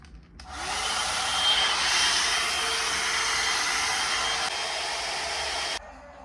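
A blow dryer brush drying hair whirs loudly and steadily for several seconds, a constant breathy roar that switches on and then cuts off abruptly.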